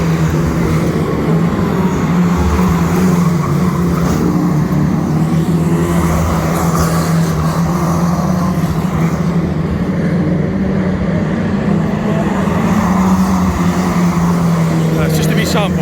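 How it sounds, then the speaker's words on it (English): Saloon stock cars racing at Cowdenbeath, Scotland, their engines roaring steadily and loudly throughout, with a constant low drone of multiple cars circulating, rising and falling as they pass. "That's a sample of the saloon stock cars."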